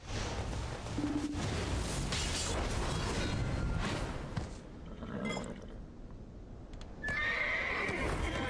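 A horse neighs and whinnies in a video game, with clip-clop hoofbeats and busy game ambience around it; the whinny rises clearly near the end.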